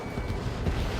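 A missile launch in the combat flight game Ace Combat 7, heard as one dense, steady rumbling roar that fills the whole second with no distinct onset and no talk over it.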